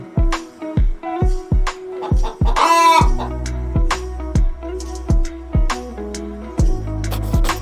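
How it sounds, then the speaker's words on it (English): A hen clucks loudly and close, with a rooster-like crowing call partway through, set over a steady rhythmic musical beat. "H for hen."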